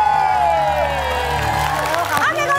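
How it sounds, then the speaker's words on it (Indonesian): Studio audience at an Indonesian TV game show clapping and cheering after a contestant wins a cash bonus, a steady crowd wash with a few whoops, set against loud tonal music and a voice talking over it. "Kasih tepuk tangannya."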